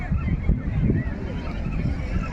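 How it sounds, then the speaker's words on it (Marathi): Wind and sea at Diveagar beach rumble as loud, low, steady roaring with gusty buffeting on the microphone. Faint voices may be mixed in. "हे आहे दिवेघर बीच"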